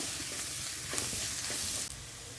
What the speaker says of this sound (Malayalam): ഇതിൻ്റെ സ്മെല്ലൊക്കെ ഒന്ന് മാറുന്ന പോലെ നമുക്കൊന്ന് ഇളക്കിയെടുക്കാം